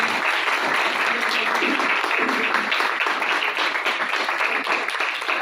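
A church congregation claps together in a steady, sustained burst of applause that fills the room evenly from start to finish, loud and continuous with no individual voices standing out.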